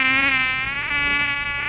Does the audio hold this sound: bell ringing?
no